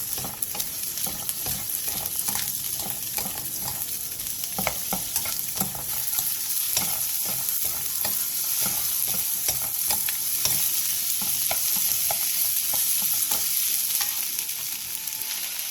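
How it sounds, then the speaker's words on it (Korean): Onion stir-frying in oil in a pan over high heat, a loud continuous sizzle and crackle with frequent scraping stirs throughout, no voices. "팬에 기름을 두른 뒤 양파를 넣고 센 불에서 양파가 살짝 투명해질 때까지"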